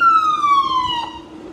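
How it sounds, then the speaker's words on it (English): A fire truck siren wails close by in the countryside with a steady, slowly falling tone and bright overtones, heard alone without talk. "probably what everybody wants to hear, a siren."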